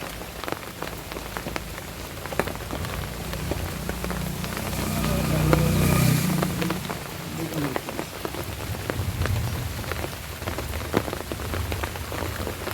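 Rain falls steadily on garden money plants in a village garden, a dense close patter of drops with a broad hiss that swells slightly midway, with no voices.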